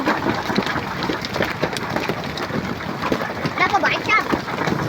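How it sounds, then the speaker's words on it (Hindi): Hail pours down over a village in Khinvsar tehsil, Nagaur, a dense, steady patter of ice striking the ground and surfaces, with faint voices briefly audible underneath. "ओलों की वर्षा फुल"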